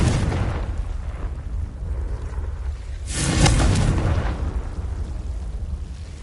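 A fiery Confringo spell blast in Hogwarts Legacy, a single booming burst around the middle that swells and fades over a low rumbling game soundscape.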